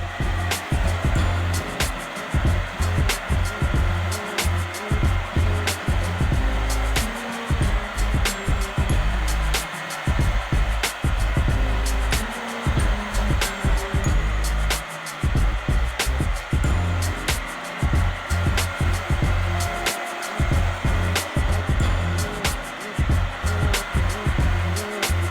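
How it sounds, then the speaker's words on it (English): A hair dryer blows steadily while hair is dried against the part for a modern undercut side-part haircut, a loud, continuous whoosh with rapid irregular fluttering and bumps as it moves around the head. "drying your hair the opposite direction of the part"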